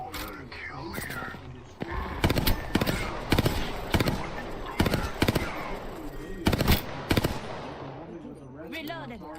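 Gunfire in a first-person shooter battle royale game, with loud bursts of rapid automatic shots over a constant background din, and game voice lines and chatter heard throughout.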